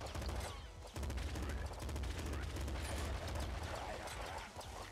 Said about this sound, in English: Assault rifle fires very quickly if you pick them up.